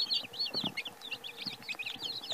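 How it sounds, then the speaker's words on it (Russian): Newly hatched chicks peep in a dense, overlapping chorus of high, thin cheeps, several birds calling rapidly close by with no talk over them. "Вот такие вот цыплятки."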